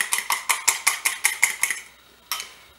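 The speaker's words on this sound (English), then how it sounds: "Just mix it up again a little bit." Fork or whisk clinking rhythmically against a bowl while beating omelette eggs seasoned with pepper and salt, about nine quick bright taps in a steady run, then a pause and one final clink.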